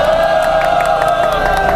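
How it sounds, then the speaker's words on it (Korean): A crowd cheers and applauds at a candlelight protest rally, a brief, loud burst of voices and clapping over a sustained tonal hum. "동지 여러분들의 뜨거운 박수로 모시겠습니다"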